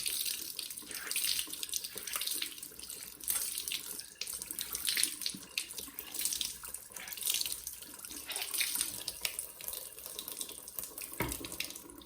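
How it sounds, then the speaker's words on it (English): Tap water runs steadily into a sink as a makeup sponge is rinsed under it: a continuous close splashing rush with no talking. "Just run the sponge under your running water."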